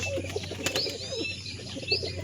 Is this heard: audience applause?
no